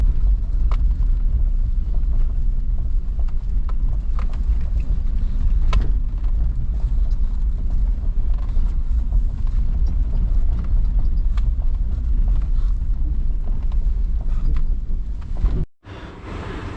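A rescue vehicle carries passengers downhill on a mountain road in Georgia, producing a steady, loud low rumble with wind buffeting that continues throughout before a brief dropout near the end; no one speaks.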